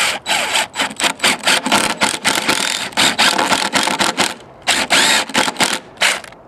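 A 3/4 inch bit is drilled slowly into wood on a snowman carving, giving rapid, evenly pulsed bursts of close, loud grinding with a brief pause partway through.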